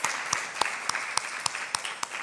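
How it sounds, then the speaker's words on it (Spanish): A church congregation gives brief applause during a Spanish-language sermon, with softer rolling clapping under a handful of sharp, evenly spaced claps at a steady rhythm, moderately distant. "Dele un aplauso al Señor"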